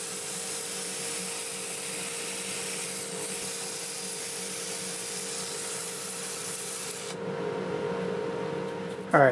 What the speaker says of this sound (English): I'll go ahead and start sanding it with the 2-inch pad now, and this will still be 80 grit.